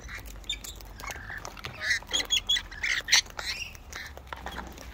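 Several birds squawk and quack in a rapid cluster of close, loud calls in the middle, with quieter calls before and after over a low background hum.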